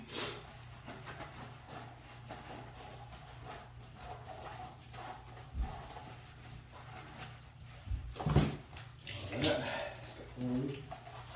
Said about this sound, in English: Just gonna scrub it down a little bit here with this washcloth.